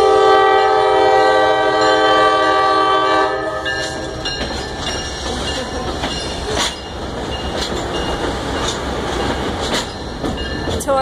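Conway Scenic Railroad train rolling past close by, opening with a loud sustained horn blast, then steady rumble and clatter of cars passing, with occasional sharp wheel squeals and clanks.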